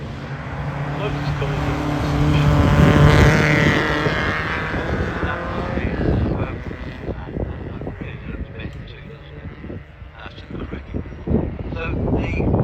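Lotus twin cam big valve racing car at a hillclimb, its engine rising to a loud, rasping roar as it passes close by, then fading into the distance while a commentator talks over it.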